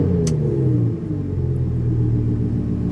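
An Armytrix-exhausted Lamborghini engine rumbles loud and close just after startup, a deep steady idle with a brief dip and swell in revs.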